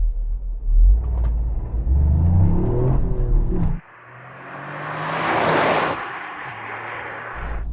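A Toyota GR Yaris three-cylinder engine, its sound partly synthesized through the cabin speakers, rumbles and revs while driving, with a loud accelerating stretch followed by a shift into a steadier, hissier drone.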